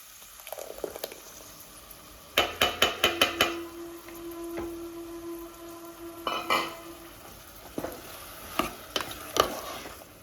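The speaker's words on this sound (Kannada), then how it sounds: "ಇವಾಗ ಇದು ಫುಲ್ ಕುದೀತಾ ಇದೆ." Water for pulao boiling hard in a pot, with a bubbling hiss under repeated clinks and scrapes of stirring and a sustained tone, moderately close and no talking.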